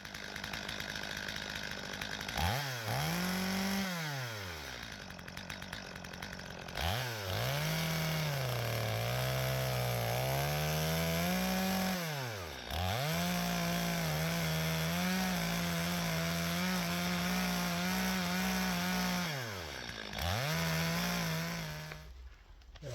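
A saw grinds steadily through ash wood in long continuous passes with brief pauses between them, close and loud, no talking.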